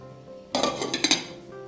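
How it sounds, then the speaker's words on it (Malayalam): A metal lid set down on a cooking pot of jackfruit on the stove for erissery, making a brief clattering clink of metal on metal that rattles for about half a second, close and fairly loud. "അടച്ചു കൊടുക്കാം."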